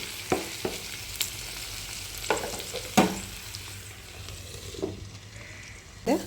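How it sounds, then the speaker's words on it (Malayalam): Ivy gourd (kovakka) stir-fry with chilli powder gets stirred in a pan, with a faint background sizzle broken by intermittent spoon scrapes and clinks against the pan. "അതിലേക്ക് കുറച്ച് മുളക് പൊടി കൂടെ ഇട്ട് കൊടുത്ത് നന്നായി ഇളക്കി അടച്ചു വയ്ക്കുക"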